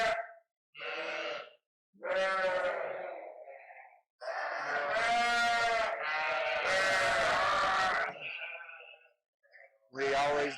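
Sheep on a UK lambing farm, ewes and young lambs, bleat repeatedly at close range in loud, wavering calls that overlap and run into long drawn-out cries, with short pauses between bursts.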